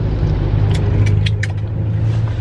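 Road traffic rumbles as a continuous low, loud drone of passing cars, with a few light clicks or jingles near the middle and no one speaking.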